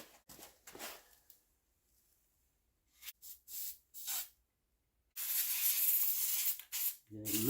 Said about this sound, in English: let's put a little bit of squirty oil in there too